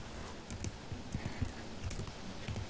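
Computer keyboard typing while a command is entered, a steady run of soft clicky keystrokes under a constant background hiss, with no voice.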